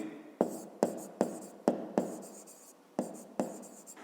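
Pen writing a maths solution step on paper, a sequence of eight quick scratchy strokes in an irregular rhythm, close and fairly quiet, no talking.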